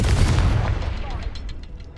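A Confringo fire spell detonates in Hogwarts Legacy with a heavy booming blast at the start, its rumble decaying over two seconds into lighter crackling debris.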